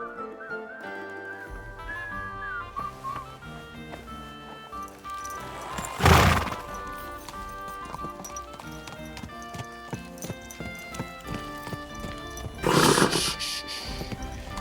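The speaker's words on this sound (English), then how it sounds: "Easy, good horse." A horse in the Kingdom Come: Deliverance 2 video game clops along with steady hoofbeats under game music, breaking into two loud whinnies.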